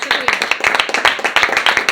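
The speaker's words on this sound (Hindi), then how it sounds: "जोरदार तालियों से स्वागत कीजिए मैम का" A crowd at a motivational achiever event claps in a dense, rapid burst of clapping to welcome a woman onto the stage. The clapping is loud, close and continuous for the whole short stretch.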